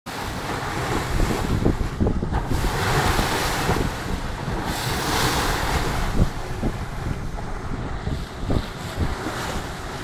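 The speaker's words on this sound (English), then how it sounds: "Oh, waves, I love the way they're crashing against the boat." Waves surge and crash against a boat at sea in a continuous wash of water, with heavy wind buffeting the microphone and occasional sharper slaps of water against the hull.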